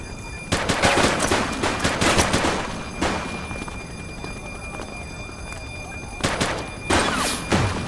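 Loud shootout gunfire in The Precinct, with bursts of rapid automatic shots and single cracks coming in waves, close and dense, with a voice calling out over the firing.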